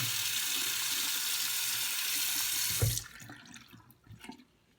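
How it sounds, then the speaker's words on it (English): Running tap water pours steadily over a Braun Series 9 wet/dry shaver being rinsed at a sink, a loud continuous rush that cuts off near the end, leaving a few faint drips and handling noises. "So I'm going to put this under here, rinse it out."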